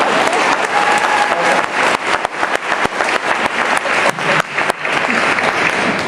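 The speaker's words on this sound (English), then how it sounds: "Okay, you can start clapping now." Sustained applause from a large live audience at a talk on changing dog behaviour, loud and close, dense clapping that swells and dips briefly but carries on throughout.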